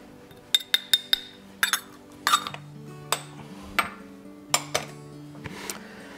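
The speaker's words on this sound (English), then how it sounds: "I'll go ahead and throw in the spices. Nutmeg, clove, cinnamon" Nutmeg, clove and cinnamon are tossed into a mixing bowl for Sicilian fig cookie filling, making a string of sharp, close clinks and taps with brief quiet gaps between them.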